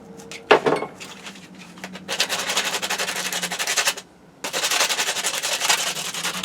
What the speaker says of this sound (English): wire brush out, I'll clean these 2 bars off really well